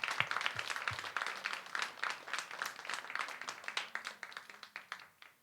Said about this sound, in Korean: 우리 어린이 제자훈련팀에게 박수 한번 하겠습니다.